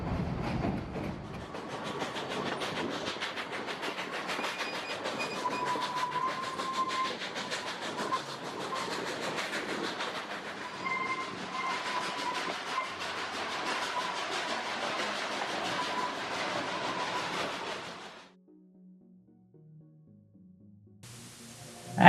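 A train in South Dakota rumbles steadily along the tracks with a continuous clatter of wheels on rails for most of the clip, then drops to near silence at the end.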